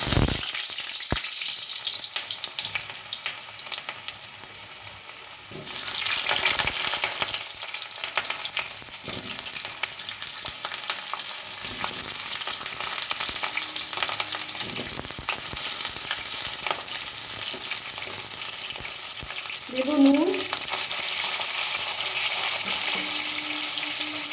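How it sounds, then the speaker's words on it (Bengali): Potatoes fry in hot oil for a winter vegetable curry, a strong continuous sizzle with occasional bursts of crackling and brief stirring clatter, close and steady for the whole stretch, no talking. "এবার আলুগুলো ভাজবো"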